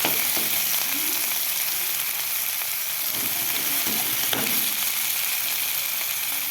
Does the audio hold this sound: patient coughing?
no